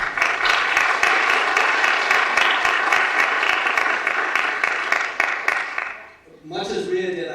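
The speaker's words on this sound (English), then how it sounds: "Big round of applause for that." A crowd at a stage performance event applauds loudly and steadily for about six seconds. The clapping then fades out and a voice begins speaking.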